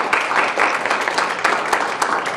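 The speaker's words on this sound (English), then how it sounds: "let's have a round of applause." An audience at an evening forum applauds in a dense, steady wash of clapping that holds for a couple of seconds, fairly close and loud.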